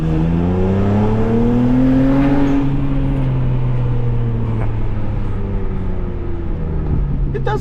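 A BMW 335i with the N54 engine pulls hard under full throttle, its engine note rising steadily in pitch, easing briefly, then climbing again, loud and close from inside the car with no talking.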